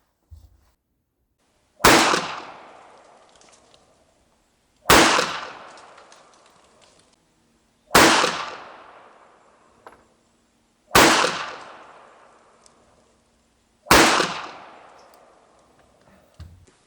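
Five sharp, loud shots from a Saber Gear SG9 pistol ring out alone at roughly three-second intervals, each ending in a short decaying echo, with a faint click before the first.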